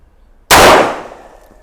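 A single sharp gunshot from a Smith & Wesson 4506 pistol cracks loud and close, then rings out in a decaying tail, with no talk during it.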